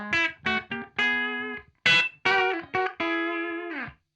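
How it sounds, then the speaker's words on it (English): A Laney amp's clean tone with no pedal engaged: a run of single guitar notes and short phrases, close and dry, each note stopping abruptly with no trailing echo. "So that's the amp completely dry."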